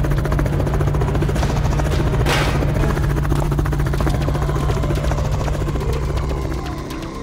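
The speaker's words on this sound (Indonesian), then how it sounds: "sebuah helikopter keren muncul dari atas" A helicopter appears overhead with a loud, close, continuous rotor thump and engine drone that holds steady for several seconds before easing slightly toward the end.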